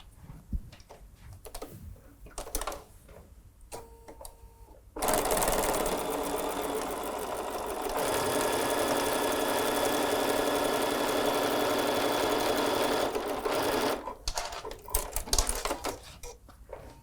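A sewing machine runs at a steady whir for about nine seconds, stitching a lattice-pattern fabric table runner. Quieter handling clicks and fabric rustle come before and after the run.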